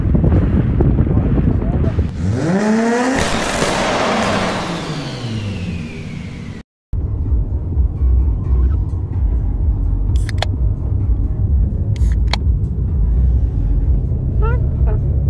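A petrol engine at the 2023 Tampere offroad show revs up with a rising, whining pitch, then settles after a brief cut into a steady, close, low rumble with wind buffeting the microphone and crowd noise around.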